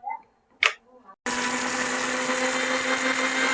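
A mixer grinder grinds dry-roasted spices with soaked Byadgi and Guntur chillies, a loud steady whirring drone that starts abruptly after a brief clatter of loading and runs on without break.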